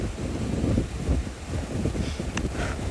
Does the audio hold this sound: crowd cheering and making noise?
no